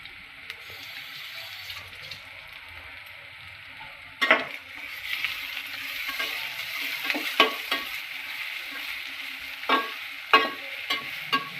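Garlic and ginger paste fries in a pan for prawn biryani, a soft sizzle with sharp bursts as the paste hits the oil and spoon scrapes and stirring knocks, close up with no talking.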